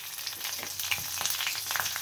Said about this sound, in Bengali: আমি শুকনো লঙ্কা ফোড়ন দেব